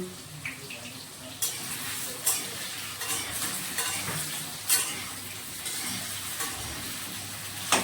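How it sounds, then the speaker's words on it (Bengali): Potatoes frying red in mustard oil in a pan before meat is cooked, a steady close sizzle broken by sharp scraping stirs and spatters. "ভেজে নেব, ভেজে নেব, আপনারা সবাই এসে দেখেন"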